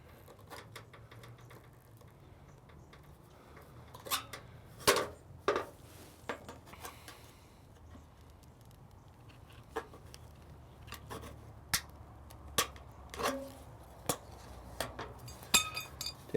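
Tin snips cutting sheet metal, heard as sharp, isolated metallic clicks and crunches scattered across a quiet background, louder around the middle and near the end.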